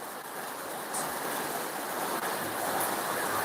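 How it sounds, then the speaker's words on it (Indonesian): Heavy rain pours in an even, dense rush that holds at a loud level from start to finish, with no talking. "ini hujan nampaknya"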